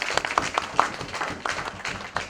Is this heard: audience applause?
yes